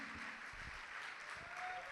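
A church congregation applauds during a sermon, a steady wash of clapping that sounds distant and faint and holds evenly throughout.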